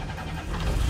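An old car's engine catches and starts, a brief low mechanical rumble rising into idle, close by and moderately loud.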